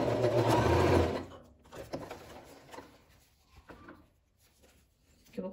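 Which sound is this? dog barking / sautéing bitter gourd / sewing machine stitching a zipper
sewing machine stitching a zipper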